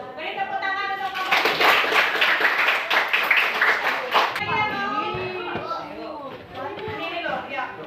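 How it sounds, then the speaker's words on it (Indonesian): Classmates in a school classroom burst into loud, dense clapping for a couple of seconds, then it cuts off abruptly and children's voices chatter nearby. "Beri tepuk tangan untuk kamu."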